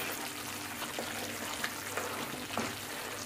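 A spoon stirs a thickening rice-water sweet with fried cashews in a pan, making faint soft scraping and bubbling that stays quiet and even throughout.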